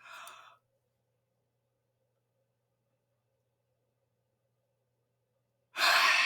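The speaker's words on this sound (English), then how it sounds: "Nice big deep breath in." A big, deep breath drawn in and let out during a guided healing meditation: a soft breathy inhale at the start, a long quiet pause with a faint low hum, then a loud, close exhale rushing out at the end.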